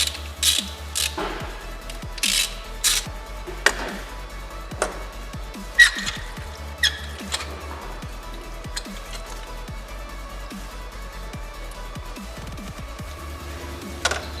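Ratchet loosening the 10mm bolts on a BMW E90 320d thermostat housing, clicking in short irregular bursts of pawl ticks, close and fairly quiet, with no talk.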